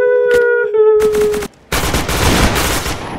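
Gunfire in a shooting video game rings out with sharp shots and rapid bursts, loud and close. Tonal game sounds play alongside them. A brief silence falls before a dense, sustained burst of firing.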